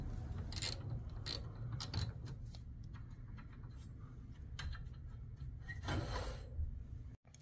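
Socket wrench with a 7/16 socket ratcheting on the set screws of a garage door torsion spring and cable drum, a steady run of close clicking pawl bursts and metallic rubbing, with brief pauses between strokes.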